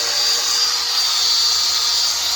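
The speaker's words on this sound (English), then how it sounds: "Line up our domino cutter, turn it on." A domino cutter joinery machine runs while cutting wood to fix a bad glue-up. A loud, continuous high-pitched motor whine and cutting roar fills the whole moment without a break.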